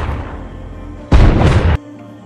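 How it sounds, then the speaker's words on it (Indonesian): A single loud gunshot in a film scene set in a hospital ICU, a sudden, heavy, booming blast lasting under a second that cuts sharply through a quiet background hum. "Mendengar ada tembakan"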